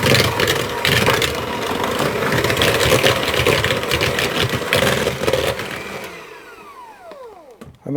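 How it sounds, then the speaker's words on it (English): An electric mixer creams butter for biscuit dough, a loud steady whirring drone that runs continuously, then winds down and falls silent near the end. "it's just that little bit quicker doing it with the mixer"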